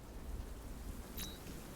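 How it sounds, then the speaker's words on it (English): Steady rain falls in the Batman Arkham Knight video game, a faint, even hiss of drops with a low rumble beneath and a brief brighter spatter near the end, with no voices. "You folks notice that rain catching my suit and actually making my cape wet and whatnot?"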